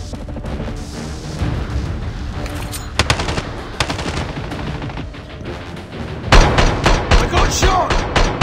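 Heavy automatic gunfire rattles in Call of Duty, with dense rapid bursts and sharp single shots building to a louder barrage near the end.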